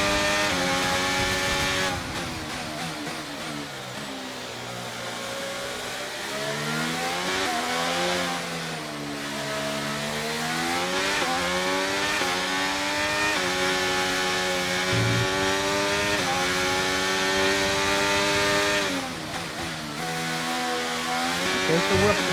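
Formula 1 cars racing in the F1 23 game on PS5, their engines howling loudly and continuously with rising and falling pitch through gear changes during an overtake, several cars close together.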